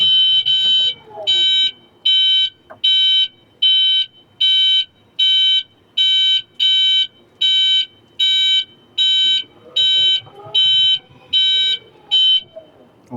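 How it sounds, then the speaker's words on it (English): Reverse warning beeper on an EKKO EK18RFL 4,000 lb electric forklift, sounding loud, close and even, with about fourteen evenly spaced beeps in a steady on-off rhythm. Faint machine noise sits underneath. "The beep only sounds when you are in reverse."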